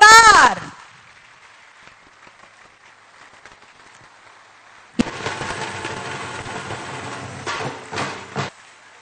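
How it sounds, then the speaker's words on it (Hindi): Loud applause from an audience at a job appointment-letter distribution ceremony bursts in midway after a faint quiet stretch, dense clapping that swells and fades near the end; a brief voice or tone opens the clip before it. "तालियां जोरदार।"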